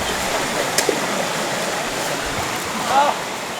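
A stream runs beside a jungle hiking trail toward Ciudad Perdida, a continuous close rush of flowing water with a brief chirp near the end.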